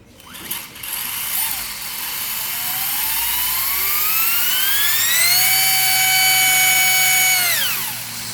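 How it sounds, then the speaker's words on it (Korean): An electric motor with steel gears whirs and winds up to a high, steady whine, holds there for several seconds, then spins down, with no voices. "이거 모터 소리예요. 모터 소리."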